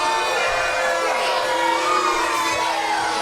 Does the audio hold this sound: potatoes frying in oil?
no